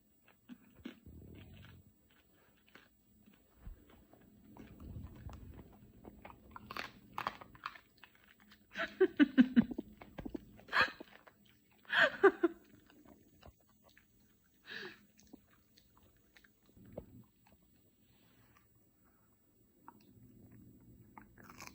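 Chewy Korean rice cake (tteok) being eaten, with close, soft chewing and a few louder crunchy bites in irregular bursts, amid quiet pauses and faint background noise.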